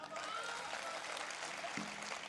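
Steady clapping from the audience at a Hindi poetry recital (kavi sammelan) in Nanded, a dense, even patter of hands filling the short moment without a break.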